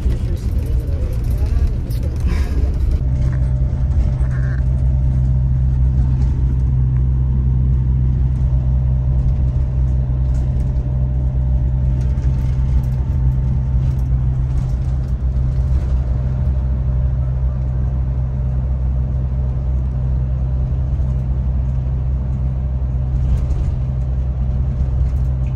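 Interior of a moving semi-sleeper coach bus travelling from São Paulo toward Brasília: a deep, constant engine and road rumble drones throughout, with a voice talking over it near the start.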